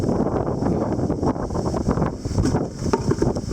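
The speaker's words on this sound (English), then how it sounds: "Do we finally have a good gust coming in?" Strong wind gusting during a September wind storm, a loud, sustained roar with buffeting rushes and rumbling noise hitting the microphone throughout.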